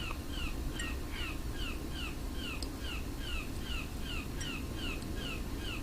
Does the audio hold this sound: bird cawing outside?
yes